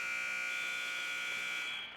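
A buzzer sounds at the end of a high school wrestling match between Delaware Valley and Scranton, one loud, steady electronic drone that holds for about two seconds and then fades slightly at the close.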